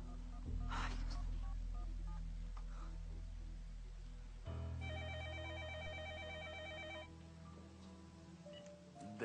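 Telephone ringing in a Polish soap opera scene, heard as a repeated electronic ring pattern in the second half, following softer room sounds and a brief intake of breath earlier.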